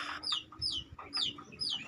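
Chickens in a coop at a poultry breeding farm, with repeated bright calls and soft clucks in several short bursts over a low steady hum of background noise.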